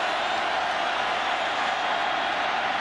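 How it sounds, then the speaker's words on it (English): A steady, dense roar from a college football stadium crowd in the end zone during a Michigan vs Minnesota game, loud and continuous with no distinct cheers. "Crowd in the end zone there trying to make some noise and disturb Michigan"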